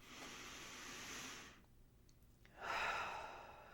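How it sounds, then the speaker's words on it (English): A deep, slow breath drawn in and let out, soft and close with a hushed airy quality, a brief quiet pause in the middle, no talking. "let's take a nice deep breath together"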